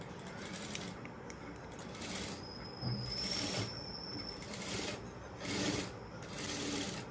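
A sewing machine runs stitching kurti fabric close along buckram in fine, tight stitches, running in several short bursts with brief pauses between them.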